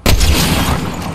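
A single sharp sniper rifle shot in Fortnite fires with a heavy low boom, then rings out and decays across the rest of the brief moment.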